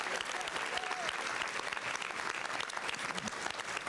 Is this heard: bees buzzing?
no